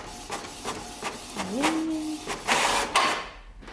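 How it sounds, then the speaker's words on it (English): A paper printer runs through a print pass, printing another layer onto a reused sheet: whirring mechanical strokes, clicks and a rising motor tone, close and fairly quiet. "put it on with the same orientation again into the printer and just print the next layer"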